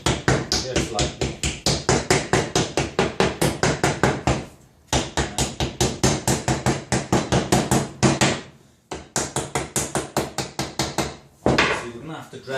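Metal pieces are hammered flat to dress them before welding: steady, close, ringing blows in quick even runs of a dozen or more, with short pauses between runs.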